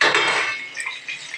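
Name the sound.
fried potatoes being strained and lifted out of the pan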